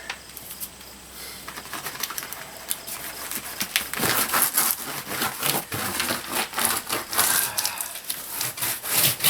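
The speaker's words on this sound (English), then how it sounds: "Now I rub on the tape." Tape is rubbed down hard onto a vapor barrier on a tiny-house wall, making close, continuous scratchy friction strokes that grow louder and faster partway through, with no talk.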